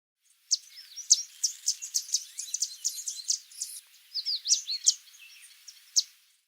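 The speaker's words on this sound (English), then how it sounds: "Yellow warbler." A yellow warbler sings a fast, bright series of high twittering and chirping notes, close and clear, running almost continuously for several seconds against a quiet background.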